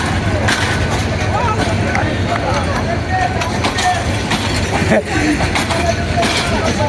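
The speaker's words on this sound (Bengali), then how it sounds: "কসাইবাড়ি রেল স্টেশনের কাছে ট্রেন একবারে স্লো করছে" A crowded passenger train slows near Kasaibari railway station in Bangladesh, its carriages giving a continuous loud rumble and rattle with some faint clatter throughout.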